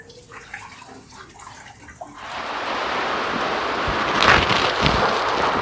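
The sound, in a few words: coolant draining from Montero Sport cooling system drain plug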